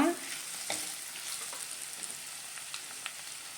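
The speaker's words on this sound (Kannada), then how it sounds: "ಮುಲ್ಲಂಗಿ ಹಸಿ ವಾಸನೆ ಎಲ್ಲ ಹೋಗಿದೆ, ಚೆನ್ನಾಗಿ ಫ್ರೈ ಆಗಿದೆ" Radish pieces fry in a pan for sambar, giving a soft, steady sizzle with small crackles close by, fairly quiet and without talking.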